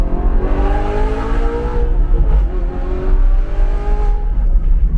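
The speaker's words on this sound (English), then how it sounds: "Just listen to that straight pipe scream." A loud, raspy straight-pipe exhaust on a sports car revving and roaring up and down continuously, with deep rumble and rising engine pitch throughout.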